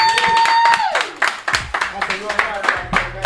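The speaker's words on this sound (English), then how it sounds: "Get that man a round of applause, man" A small group claps and cheers for a birthday on a comedy podcast, a scattered burst of applause rising under talking and laughter, close and fairly loud, with voices continuing over it.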